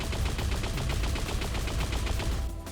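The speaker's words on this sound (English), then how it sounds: "after listening to audio feedback on the link gun, we've revisited the primary sounds for the time being" Primary fire of the link gun in Unreal Tournament, a loud, rapid, evenly pulsing stream of energy shots repeating steadily for a few seconds before cutting off, with no voices.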